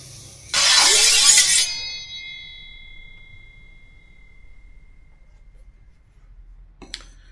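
A knife blade drawn once across a wet whetstone: a loud, close scraping stroke that leaves a fading metallic ring, then near-quiet and a faint click near the end.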